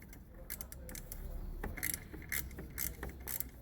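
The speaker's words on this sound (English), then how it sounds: "we take T30 Torx bit and we undo these" A T30 Torx bit undoes bolts on a Ford 2.0 TDCi diesel fuel filter housing, giving a series of close metallic ratcheting clicks and small scraping taps in irregular bursts.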